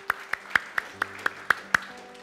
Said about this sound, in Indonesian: Beri tepuk tangan yang terbaik buat Tuhan kita